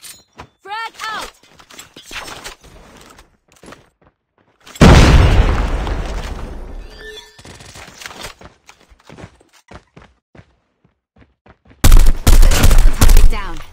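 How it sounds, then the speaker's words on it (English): Frag grenade blast and bursts of gunfire in a shooter video game, with a big rumbling explosion in the middle, rapid close shots near the end, and scattered footsteps and clatter between them. "Frag out!"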